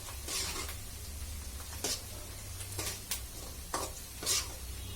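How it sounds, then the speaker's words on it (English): Four garlic pieces fry in a pan as the base for a fish curry, with a soft sizzle underneath and several scraping stirs of a utensil against the pan, close and quiet. "Just fry it for a little while till that raw smell goes."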